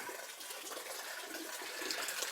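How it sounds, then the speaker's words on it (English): Water gushes steadily from a length of drain pipe laid across to drain a garden pond, a continuous broadband rush with no voices, holding near and even and swelling slightly toward the end. "So the water's now coming out from there"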